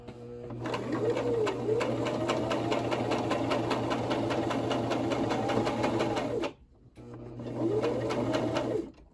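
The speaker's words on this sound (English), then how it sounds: "And I'm just keeping sewing in that straight line, following the pins." A sewing machine runs steadily, stitching a straight seam to turn pants into a skirt, with a short pause near the end before the whirring resumes.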